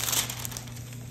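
Thin plastic film on a diamond painting is handled, giving a brief, close crinkling rustle that fades quickly.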